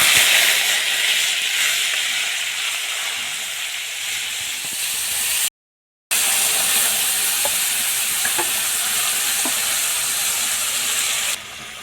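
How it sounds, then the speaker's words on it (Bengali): Bay leaves and panch phoron spices sizzle in hot oil with a loud, steady hiss and a few faint pops and crackles. The sound cuts out briefly midway, then resumes at the same level. "দুটো তেজপাতা এখন দিব পাঁচফোড়ন এখন তেলের উপর দিয়ে"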